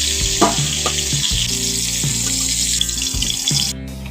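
Cauliflower fries in hot oil with a continuous close sizzle, broken by a few soft clinks and scrapes of a utensil.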